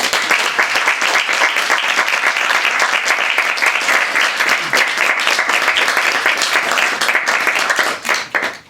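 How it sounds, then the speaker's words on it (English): Sustained applause from a sizable audience at a poetry reading, dense steady clapping throughout that thins and fades in the final second. "Let's give the poets another round of applause."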